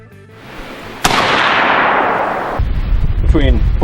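An AR-15 rifle fitted with a Manticore Arms compensator fires one sharp, very loud shot outdoors, followed by a long rolling echo that fades before a brief voice and noise.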